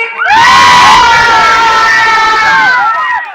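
A large crowd at a 2023 stage show at Beharbari Out Post cheers and shouts loudly. The dense roar of many voices swells up at once and holds strongly for several seconds before easing off slightly.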